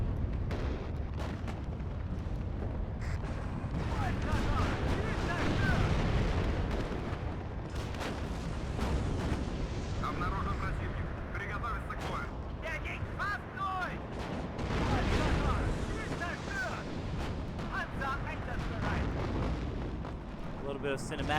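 Gunfire and explosions from a WARNO 10v10 battle, including fire from an Avklara BRM-1: a dense, continuous barrage of booms, bursts and shots, loud and sustained throughout with heavier swells, with game speech mixed in.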